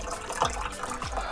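Seltzer pours and splashes into a glass with a soft watery fizz and a couple of low gurgling glugs, close by, with no talking.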